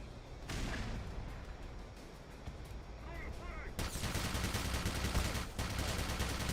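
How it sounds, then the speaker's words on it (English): Gunfire rattles down from an elevated position in Black Mesa, starting as scattered shots and swelling into dense, continuous automatic bursts, loud and close. "There's someone shooting from above me."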